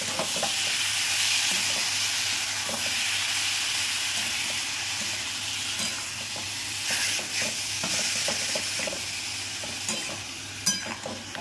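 Straw mushrooms frying in a pan, an even hissing sizzle that carries on throughout, with occasional light stirring clicks and taps toward the end.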